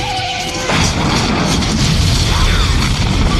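A sudden loud blast from a fiery truck explosion in a Terminator film scene erupts after a brief tonal passage, then rumbles on as a sustained roaring crash.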